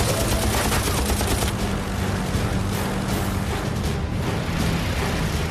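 Machine gun fire from a P-51 Mustang in World War II aerial combat comes as a dense, loud continuous rattle of bursts over a roaring engine drone.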